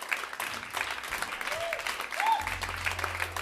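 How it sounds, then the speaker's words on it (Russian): A concert audience applauds in a brief, moderately loud burst of clapping, with a voice speaking over it. "Аплодисменты ему."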